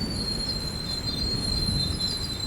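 A train comes to a halt: a steady rail rumble under a thin, high wheel squeal that holds throughout, close and without voices.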